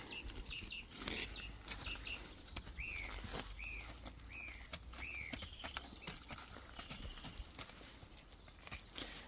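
Horses move nearby in a field on a walk around Néville-sur-Mer in Normandy, with soft hoof clip-clops and rustling amid a breezy outdoor background and a few bird chirps, no talk.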